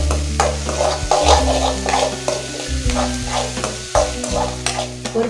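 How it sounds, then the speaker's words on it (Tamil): Ginger garlic paste sautéing in a pan on medium flame for egg noodles, a loud, close sizzle with rhythmic stirring scrapes and a low burner hum throughout, no voices. "இந்த இஞ்சி பூண்டு ஸ்மெல் பச்சை ஸ்மெல் போகிற வரைக்கும் நல்லா வதக்கிக்கோங்க"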